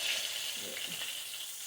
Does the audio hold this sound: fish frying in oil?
yes